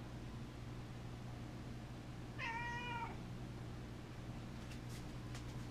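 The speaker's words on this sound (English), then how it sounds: "You're a good kitty." A pet cat gives one clear, drawn-out meow over the steady hum of a fan or air conditioner in a room.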